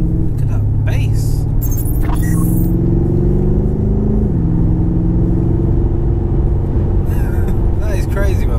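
A BMW F90 M5 driving on part throttle, with a loud, deep, steady engine drone from inside the cabin that rises slightly in pitch and then settles, under people talking.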